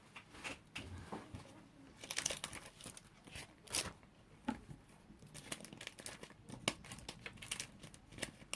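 Paper being cut and handled while making a Valentine card, with scattered close snips, crinkles and small rustles at an irregular pace, fairly quiet throughout.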